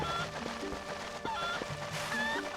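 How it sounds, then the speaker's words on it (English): A chicken clucks in a video game, short clucks in an uneven rhythm over a steady, fairly faint game background with music-like tones. "Here's the chicken."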